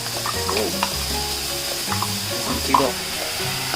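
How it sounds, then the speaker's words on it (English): An onion and coriander mixture sizzles and crackles loudly in hot oil in a pan, a constant frying hiss with a few stirring scrapes and clinks, and no talking. "to the hot oil, we'll be adding onion and coriander mixture"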